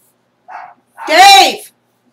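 A single dog gives a short yip followed by a louder, longer bark, close by and clear against silence.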